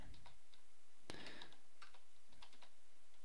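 Typing on a computer keyboard, a few quiet scattered key clicks and one louder cluster of strokes near the middle, close and alone in a hushed room.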